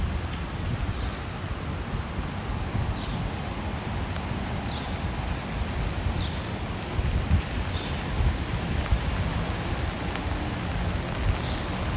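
Steady rain pours outdoors in Toronto during a live street stream, a dense continuous hiss of drops with a few faint chirps and light wind noise, and no voices.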